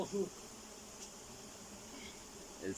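Honey bees buzz around a hive while the comb is cut for honey amid smoke, a faint, steady hum that continues throughout, with brief low voice sounds near the start and end.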